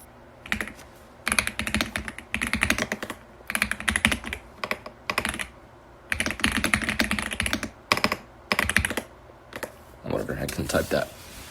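Rapid typing on a computer keyboard clatters in bursts with short pauses, close and fairly quiet, with a voice speaking over parts of it.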